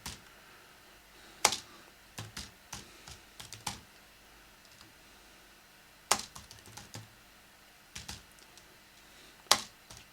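Quiet clicking of a computer keyboard in short irregular bursts with pauses between them, some keystrokes sharper and louder than others, used while setting up remote desktop control on a Raspberry Pi running Linux.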